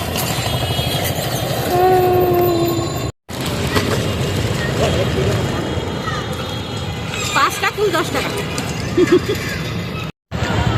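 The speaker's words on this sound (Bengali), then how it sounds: "এটা হচ্ছে আন্তনগর ট্রেন" An intercity train rumbles steadily past at close range in Dhaka, with a broad roar and brief tonal horn-like notes, continuing for the full stretch.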